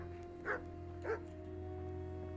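Dog barking twice in the Kingdom Come: Deliverance video game, two short separate barks at moderate distance over a steady low hum with no talking.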